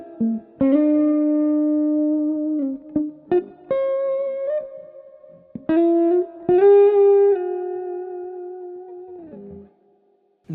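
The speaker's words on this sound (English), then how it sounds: "So without the auto filter, the guitar tone sounds a little bit like this." Clean electric guitar run through tape echo and generous spring reverb, playing several sustained chords and single notes with sharp attacks, long ringing decays and a soft trailing echo, alone without talk.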